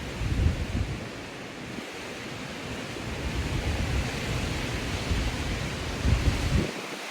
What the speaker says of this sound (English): You can hear the wind, I'm sure.